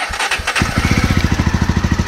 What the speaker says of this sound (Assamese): তো এইফালেদি বাইক ষ্টাৰ্ট হৈ গ'ল